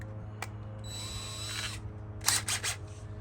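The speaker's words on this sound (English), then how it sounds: "we take our drill bit we just bought" A power drill bores a hole in a Carolina Skiff hull at the garboard drain plug, a short whirring burst followed by a few sharper bursts, close and moderately loud.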